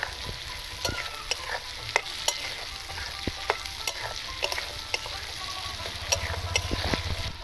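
Fried rice with cashews and raisins gets stirred in a hot pan, sharp spatula scrapes and clicks landing every half second or so over a steady sizzle, no voices.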